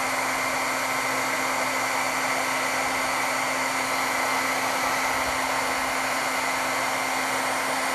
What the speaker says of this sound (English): make sure that every bit of it has been hit with the heat tool